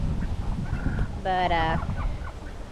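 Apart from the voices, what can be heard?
old pet chicken clucking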